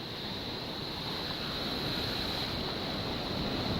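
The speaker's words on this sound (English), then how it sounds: "The waves are coming now." Surf at a coastal break, with a steady broadband wash of ocean waves mixed with gusting wind against the microphone, continuous and fairly loud with no talking.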